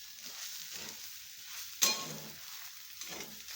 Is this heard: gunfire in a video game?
no